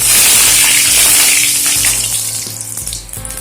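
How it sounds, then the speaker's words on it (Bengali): Whole cumin, garam masala, bay leaf and a dried red chilli sizzle in mustard oil in a wok, a loud dense spitting hiss that is strongest at first and slowly fades. "কড়াইতে সর্ষের তেল দিয়ে দিয়েছি এবারে ফোড়নে দিয়ে দিচ্ছি গোটা জিরে গোটা গরম মশলা তেজপাতা আর একটা গোটা শুকনো লঙ্কা"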